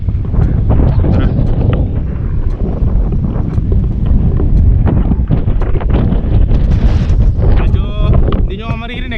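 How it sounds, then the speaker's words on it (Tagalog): Heavy gusts of outdoor wind buffet the microphone in loud, rumbling low roars that swell and ease, while a person talks faintly underneath. "Hindi nyo maririnig dahil napakalakas ng hangin dito guys"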